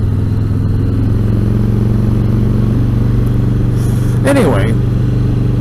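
A Harley-Davidson motorcycle being ridden hard into a corner, its steady low engine drone running throughout, close and loud, with a brief clattering burst near the end and someone talking over it.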